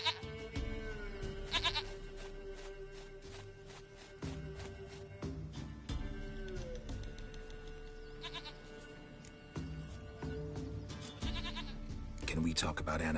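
Goat in The Witcher 3 video game bleating repeatedly, several wavering, nasal calls in quick succession, close and fairly loud, with a faint game ambience beneath.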